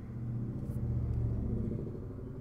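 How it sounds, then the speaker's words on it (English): A loud pickup truck rumbles past nearby, its deep engine drone swelling and fading over a couple of seconds. "That was a loud car."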